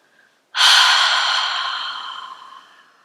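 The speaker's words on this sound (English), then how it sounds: "Exhale out through your mouth." A single long, breathy exhale out through the mouth during a kumbhaka pranayama breathing exercise, close and loud, starting abruptly after a brief quiet and slowly fading over about two and a half seconds.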